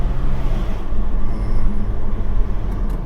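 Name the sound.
car accelerating with engine pulling after injector fix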